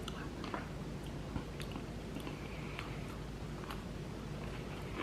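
Someone chewing a caramel chocolate Oreo cookie up close, with soft, moist squishy bites and crunches repeating irregularly at low volume with no talking.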